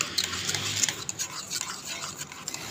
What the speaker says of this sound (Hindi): हम इसको अच्छे तरीके से मिक्स कर लेंगे